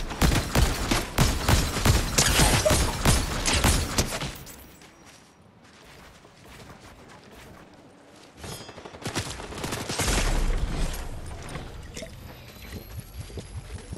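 Rapid gunshots in Fortnite, a loud burst of fast repeated shots for about four seconds, then a quieter stretch before further shooting resumes at moderate level.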